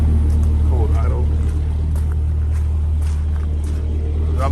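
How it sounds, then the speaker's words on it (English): A pickup truck engine idles cold with a low, steady rumble close by, a constant drone without revving. "You guys can hear a little bit of the cold idle."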